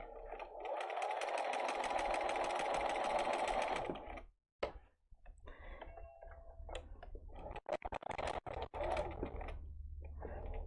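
A sewing machine stitches a curved quilt seam for a Basket of Posies border. It runs steadily and close for about four seconds, stops, then gives a few short, halting bursts of stitching.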